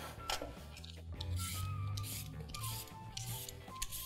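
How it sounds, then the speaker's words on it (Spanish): A carrot is peeled with a series of short, scratchy scraping strokes at an uneven rhythm, each one close and brisk, over a soft tonal background. "a pelar la zanahoria"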